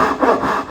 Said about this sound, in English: now I've got that point with the dovetail joint, it's time to start sawing